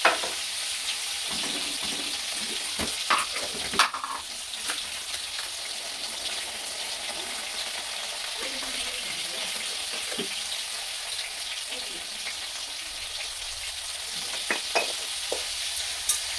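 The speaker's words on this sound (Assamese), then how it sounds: "নিমখ হালধি দি পেলাই ধুনীয়াকৈ ভাজি ল'ম" Jackfruit seasoned with salt and turmeric sizzles in a hot pan, a constant, close crackling hiss punctuated by a few scraping stirs and utensil knocks.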